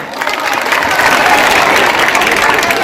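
Audience applause at a school annual function, a loud, close crowd clapping that swells after a moment and holds steady, with faint cheering mixed in.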